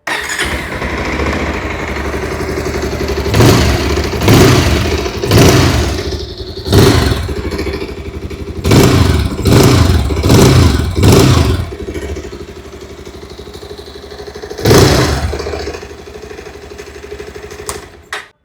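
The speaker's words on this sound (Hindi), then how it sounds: "आइए अब सुन लेते हैं इस बाइक की एग्जॉस्ट नोट।" A Bajaj Pulsar 220F motorcycle idling with a steady exhaust note, punctuated by a series of sharp, loud throttle blips, several in quick succession, heard close up with no talking.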